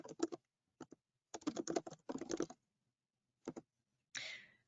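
Bursts of computer keyboard typing while entering a template title in financial planning software, in several quick clusters separated by pauses, close and clear, ending with a brief brushing noise.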